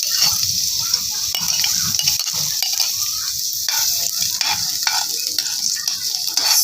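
Vegetables frying in hot cooking oil for a home dinner, a steady close sizzle with occasional stirring scrapes and light clinks of a utensil against the pan.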